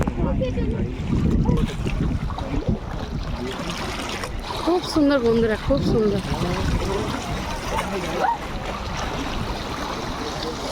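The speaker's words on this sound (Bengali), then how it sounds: "দেখতে পাচ্ছ জোয়ারের ঢেউ, দেখো কি বড় বড় ঢেউ দেখতে পাচ্ছ" Big tidal waves churn on the Ganges river at Uluberia, a steady rushing wash of water and wind noise heard close, with someone talking over it throughout.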